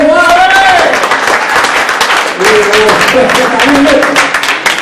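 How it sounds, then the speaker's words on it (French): An audience claps hands together in steady rhythm throughout, a dense run of sharp claps with a voice sounding over the top. "j'ai besoin que vous tapiez des mains"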